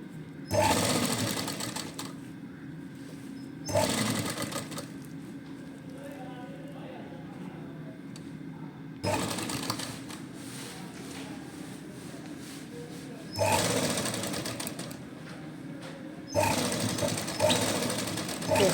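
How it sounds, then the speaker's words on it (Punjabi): A sewing machine stitching along the neckline of a suit runs in several short bursts separated by pauses, with a person talking during the quieter gaps. "ਆਪਾਂ ਸਾਰੇ ਗਲੇ ਦੇ ਉੱਪਰ ਸਿਲਾਈ ਲਗਾ ਲਈ"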